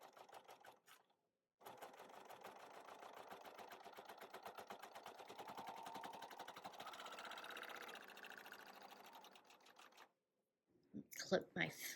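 A sewing machine stitches fabric along a seam guide at a 2.5 stitch length, a fast rapid-fire mechanical clatter running steadily for about eight seconds, then stopping, followed by brief handling noises.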